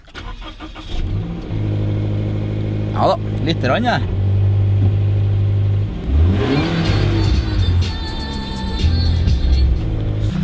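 Car engine revving close by, several rising rev bursts over a steady idle rumble, with someone talking briefly in between.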